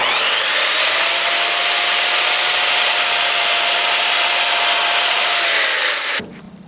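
A handsaw rasps through a wooden trim board in one long loud continuous cut of about six seconds, ending abruptly as the blade clears the wood.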